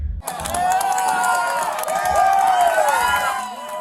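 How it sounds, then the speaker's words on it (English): Festival goers at an outdoor concert applaud and cheer as police arrest two women, a dense crowd roar of clapping and raised voices sustained and loud throughout. "Police arrested the 2 women as the festival goers applauded."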